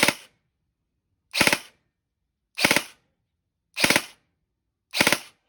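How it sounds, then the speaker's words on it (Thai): A G&G CM16 Raider L2.0E airsoft rifle on auto fires five sharp, loud three-round bursts about a second apart, close up, with silence between them. "ปรับมาที่ออโต้แล้วยิงนะครับ เป็นไงครับ เจ๋งไหมครับ ยิงออกทีละสามนัดนะครับ"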